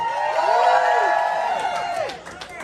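A political rally crowd cheers and whoops loudly and steadily, a dense roar of many voices sustained throughout before easing slightly near the end.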